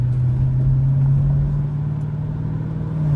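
Dodge Challenger Scat Pack with the 392 V8 engine, heard as a steady, loud, deep rumble from inside the car during a late-night drive. Its low drone holds nearly constant with a slight pitch change as it downshifts.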